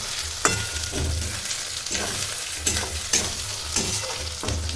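Ingredients with ginger paste stirred in a hot pan before chicken goes in: a loud close sizzle punctuated by repeated rhythmic spoon scrapes roughly every second.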